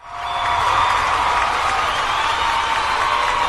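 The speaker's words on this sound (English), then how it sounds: "Please keep your applause down." A crowd breaks into loud, sustained applause and cheering that swells within the first half second and then holds as a dense, steady roar of clapping and whoops.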